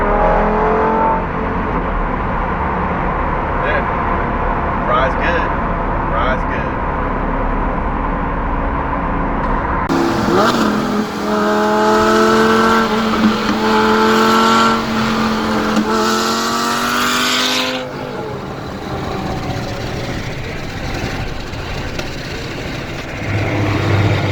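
A 2008 Lamborghini Gallardo engine runs at about 5,000 RPM, first a steady loud drone, then roaring harder with rising and falling pitch sweeps through shifts, close and dominant before easing back to a steadier hum.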